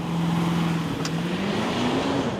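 Porsche Cayenne SUV launching from a standstill in performance start mode, a loud steady engine roar with a rising pitch as it accelerates hard, close and continuous without talk.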